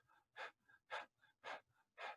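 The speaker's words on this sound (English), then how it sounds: "just sort of panting a little bit like a dog, but just nice and kind of a slower pace." Breath of fire yoga breathing with the mouth open, panting like a dog at a slow pace: four strong, evenly spaced exhalations with softer inhales between, close and alone.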